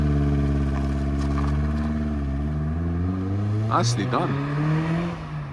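A classic car pulls away up a steep hill, its engine note climbing steadily in pitch as it accelerates close by, with a short spoken remark near the end.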